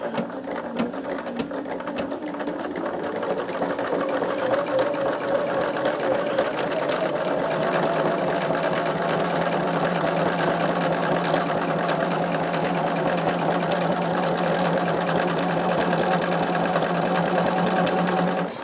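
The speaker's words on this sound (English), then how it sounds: "stitch from top to bottom on each side here" A sewing machine stitches the side seams of a small charm bag at a quarter-inch seam allowance, a steady, close, whirring hum with a fast stitching rattle that runs continuously and evenly throughout.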